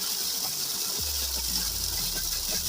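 Water gushing steadily from a 4-inch delivery pipe of a 20 HP solar-powered submersible tubewell on a farm, a continuous broad rushing hiss, loud and unbroken, with a low hum beneath it.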